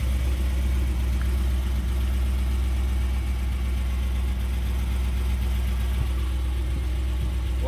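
A 2004 Cadillac CTS engine idles steadily for several seconds, a constant low rumble close by with no speech over it.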